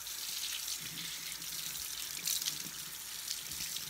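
Running water from a tap rinses a Breyer model horse in a sink, a steady, close splashing hiss that holds evenly for a few seconds with small fluctuations.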